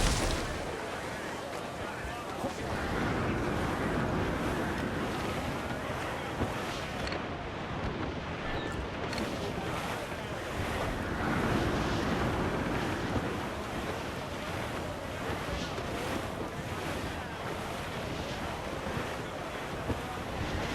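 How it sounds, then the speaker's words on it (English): Rough seas and gusting wind around a sailing ship in Assassin's Creed IV Black Flag, a steady, loud wash of surf and wind noise filling the whole stretch with no break. "Dark skies and rough seas there!"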